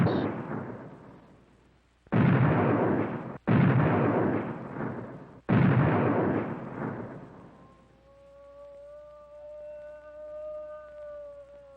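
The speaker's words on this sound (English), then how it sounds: "The cavalry opened fire on the unarmed Indians." Cavalry gunfire in a 1973 educational film, heard as a series of loud booming volleys with a soft rumble between them, fading into a sustained musical tone.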